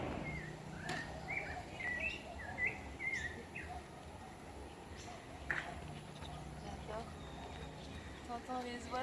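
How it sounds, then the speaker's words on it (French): Birds chirp and tweet in short bursts in Bacalar, Mexico, fairly faint, over a quiet ambient background with occasional people talking. "T'entends les oiseaux"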